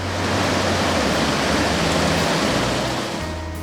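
Steady rushing water fills the scene, a loud continuous broadband wash like a river flowing close by at a 4WD crossing, with no voices.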